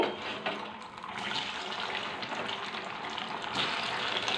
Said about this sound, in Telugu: మనము చాన్ దుంపలు వేపుకున్నామండి